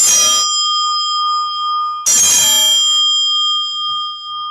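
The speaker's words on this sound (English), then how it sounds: "I've got my bells." Bells rung for energy purification: two clear, loud metallic strikes about two seconds apart, each with a bright attack and a long shimmering ring that sustains and slowly decays, heard alone.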